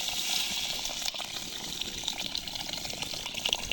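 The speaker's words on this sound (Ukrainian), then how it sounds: "Заливаю водою, щоб закрити верх." Water being poured into a kazan over rice for plov cooked outdoors, a soft, continuous splashing and gushing of liquid at moderate distance, with no talk.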